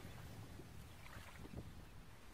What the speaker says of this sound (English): That's why it's so windy.